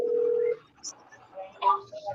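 Telephone being dialed to call someone back during a live stream: a steady tone followed by brief keypad beeps, faint and close, with quiet voices around it.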